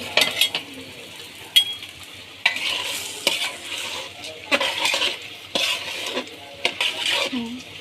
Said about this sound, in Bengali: এই যে এরকম হচ্ছে, যে মাংসটা কষাইতেছি, আরও কষানো হবে